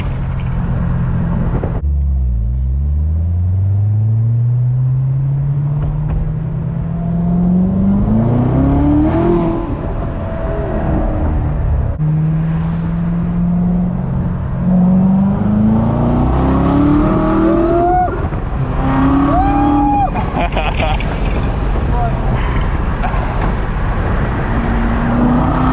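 A manual 2015 Corvette C7 Z06 engine pulls hard through the gears at night, rising in pitch with each shift, short lifts between pulls, loud and close from inside the cabin.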